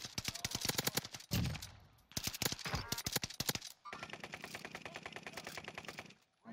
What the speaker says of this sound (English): this gun empties the whole clip within the blink of an eye